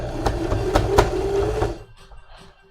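A sewing machine runs a seam on a hood, a fast rhythmic mechanical whir with needle taps for under two seconds, then stops and leaves near silence.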